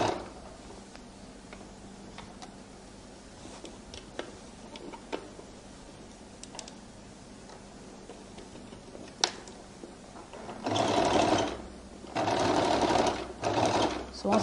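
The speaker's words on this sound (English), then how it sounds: "I roll it open and I now begin to stitch." A sewing machine stitches the seam of a flared skirt. A quiet ticking mechanism runs for most of the span, then the machine breaks into two loud bursts of steady stitching near the end.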